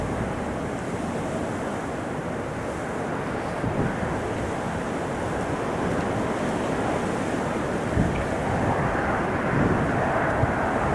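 An Emirates jet departs from an airport, its broad, steady engine roar rising gradually and staying loud throughout, mixed with gusting wind noise over the microphone.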